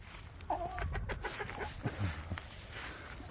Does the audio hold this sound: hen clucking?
yes